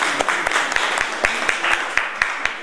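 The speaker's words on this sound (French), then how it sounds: "On l'applaudit pour ça déjà." Applause from an audience at a women's rally in France, a dense patter of clapping with several sharp, louder claps standing out at regular intervals, fairly close and steady throughout.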